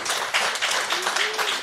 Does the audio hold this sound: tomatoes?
no